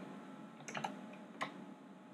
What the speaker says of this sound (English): so I'm going to type in RO